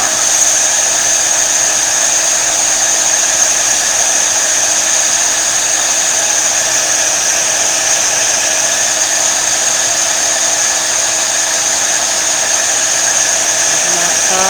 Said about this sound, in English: I've got my heat tool right here. I'm going to warm it up just a little bit.